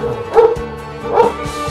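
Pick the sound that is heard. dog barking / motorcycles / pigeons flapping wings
dog barking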